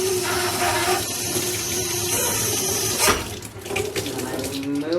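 Hot water runs steadily from a tap to rinse out a wine bottle at a sink, a continuous close splashing stream with a brief surge midway and no talk.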